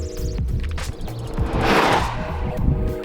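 A BMW M5 E39 rolls along in the desert with a steady engine drone and tire and road rumble from inside the cabin, swelling slightly partway through.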